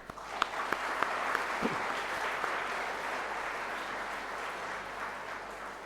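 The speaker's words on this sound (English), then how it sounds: "A much louder applause for your parents, please." At an engineering college graduation day, the audience applauds the graduates' parents, a soft, distant wash of clapping with a few sharper claps near the start, continuing steadily.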